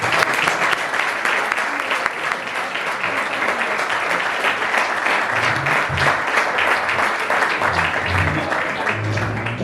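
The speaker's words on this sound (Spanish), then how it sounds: "Un aplauso." An audience at a talk on mental health and addictions applauds loudly and steadily, dense sustained clapping filling the room the whole time, with a few low murmurs underneath.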